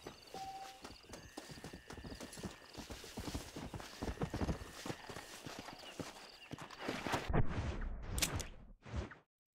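Horse hooves clip-clop rhythmically in the Red Dead Redemption video game, a steady galloping patter with occasional whooshes and a brief whinny, ending in a few sharp hits before sudden silence.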